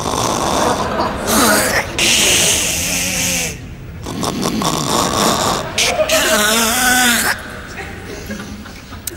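Loud, rasping snoring-like sounds come in uneven rattling bursts with short breaks, some with voiced, throaty tones, as if made by a person.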